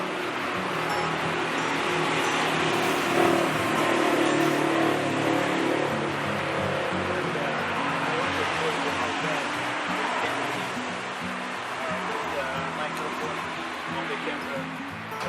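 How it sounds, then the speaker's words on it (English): Continuous road traffic noise from nearby cars, a steady broadband rumble with passing and accelerating engines, loud and constant throughout, while a person talks over it. "especially with all the traffic noise going on"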